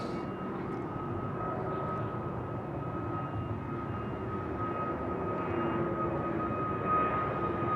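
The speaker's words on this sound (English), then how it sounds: "Sounds like it's a 777 starting up somewhere" Boeing 777 jet engine starting up somewhere at London Heathrow, a distant steady whine with a sustained tone over a low rumble, fairly faint and continuous, no voices.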